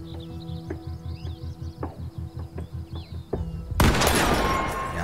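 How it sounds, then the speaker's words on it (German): Gunfire from the video game The Quarry: a rapid burst of sharp repeated shots over a rhythmic pulsing backdrop, followed by a loud, dense noisy blast near the end. "Jawohl. Schöner Schuss."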